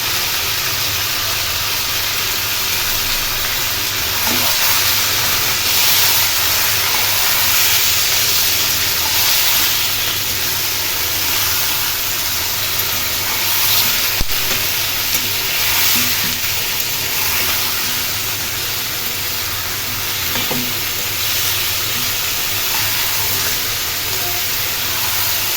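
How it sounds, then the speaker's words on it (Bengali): Chicken frying in mustard oil, a loud, continuous hissing sizzle with a low rumble underneath, holding steady for a long stretch with small crackles and no speech. "খুব ভালো করে ফ্রাই করে নিব। চিকেন যদি ভালো করে ভাজা হয় খেতে বেশ ভালো লাগে।"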